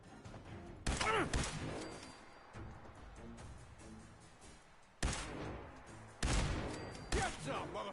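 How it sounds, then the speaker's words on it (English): Gunfire in the video game Fallout 4 crackles in a few sharp bursts, at about one, five and six seconds, over a low, busy game background. "I'd love that pop, the gunshots in this game to be remastered."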